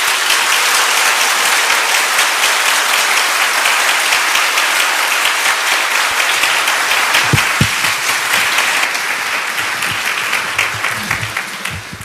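A Korean church congregation gives a long, full round of applause of encouragement, a thick continuous wash of many hands clapping that thins slightly near the end.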